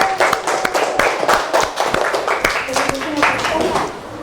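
A small group in a classroom claps for a presenting student group, giving a scattered, moderately loud round of clapping mixed with voices and background chatter.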